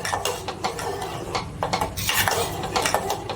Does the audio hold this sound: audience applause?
no